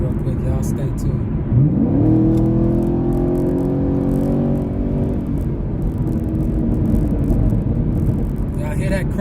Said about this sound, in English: let me give y'all a quick taste of this exhaust real quick